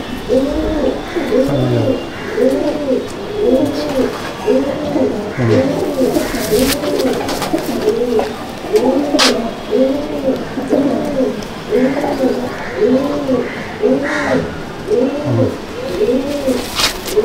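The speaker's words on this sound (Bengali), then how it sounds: "এবার একটা পাঞ্জাবি মাদি পায়রা শখ করাচ্ছি আপনাদেরকে।" A Punjabi female pigeon coos in a steady run of rolling, repeated calls, close and fairly loud, with a few soft knocks and rustles from a pigeon loft in Kestopur.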